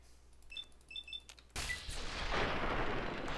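Gunfire in Fallout 3: a few faint beeping interface tones, then a sudden loud blast followed by sustained booming, rumbling weapon noise.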